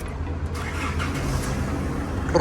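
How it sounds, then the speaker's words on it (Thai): The engine of a 2008 Isuzu D-Max 2.5 SLX four-door pickup idles with a steady low rumble, heard close and continuous with no revving. "ขอฟังเสียงเครื่องสักนิดหนึ่ง"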